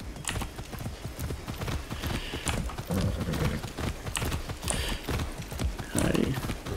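Repeated hoof clip-clops from a trotting horse in Far Cry 6, steady and close, with a whinny mixed in.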